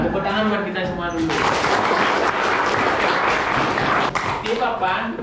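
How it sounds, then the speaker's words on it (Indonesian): A classroom of pupils bursts into applause, a dense, loud burst of clapping lasting several seconds that rises after a moment of voices and then fades back toward talk. "Tepuk tangan buat kita semua dulu."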